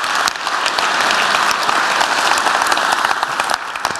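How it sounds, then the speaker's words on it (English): A conference keynote audience claps for the organizing staff, giving dense, even applause that carries through four seconds without talk. "So please give them a big round of applause for treating the speakers so well."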